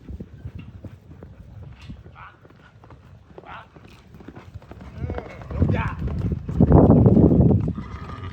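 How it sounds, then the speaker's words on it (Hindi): A mare's hooves clip-clop on the ground at a farmhouse, a loose irregular beat that grows louder and nearer toward the end while people talk over it. "इधर इधर इधर इधर लाओ घोड़ी"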